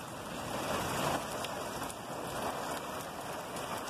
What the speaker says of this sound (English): The rain gets blowed around a little bit and comes at you.